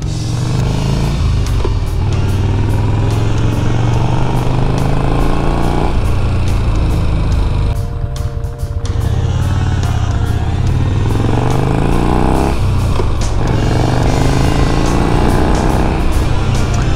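A Yamaha XV 950 Bolt cruiser motorcycle engine runs loudly nearby, its low throbbing idle rising into revs and dropping back several times, with a short lull in the middle.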